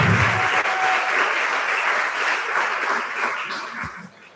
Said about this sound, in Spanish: fuerte el aplauso de nuevo para ella, por favor